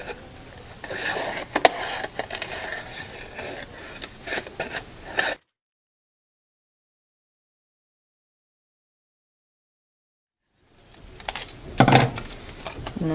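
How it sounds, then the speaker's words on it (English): Scissors slowly cutting a complicated leaf shape out of paper, giving soft rasping snips and rustles up close, then a stretch of complete silence before the paper handling resumes. "So you have to cut very slowly around these more complicated leaves, so that you cut them out as neatly as possible."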